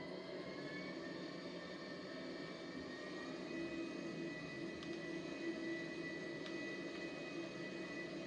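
A Boeing 747 airliner in GTA comes in to land with a continuous, fairly faint jet-engine roar and whine, heard alone without talk.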